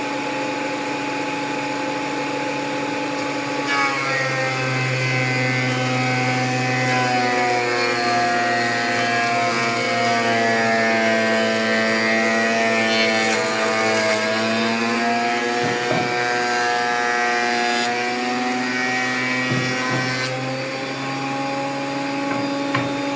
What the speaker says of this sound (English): I'm just using a shop vac to do dust collection off the planer